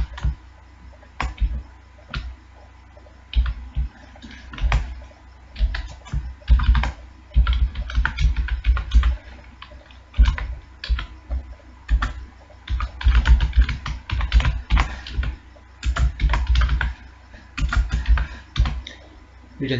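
Steady typing of a C program on a computer keyboard, with dense irregular key clicks in quick bursts and short pauses, close and fairly loud throughout, with no talking.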